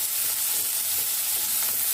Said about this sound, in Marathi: कांदा आता आपल्याला हलकेसे सॉफ्ट करून घ्यायचे आहे फक्त।